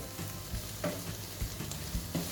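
Green peppers stirred into onions already frying in a pan for a Turkish meat and dried bean stew, giving a soft, steady sizzle broken by several light stirring scrapes and clinks, fairly quiet and with no talk.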